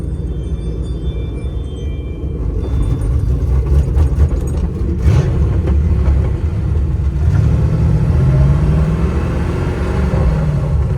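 A car engine runs at a low rumble around 900 RPM, a deep, steady, close drone with slight swells in tone as it turns over.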